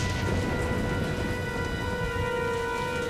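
Heavy rain from a thunderstorm in the Jurassic Park video game pours down in a loud, dense, continuous hiss with a low rumbling undertone and no pauses.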